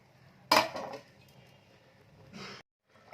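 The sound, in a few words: placing a lid over the cabbage curry pan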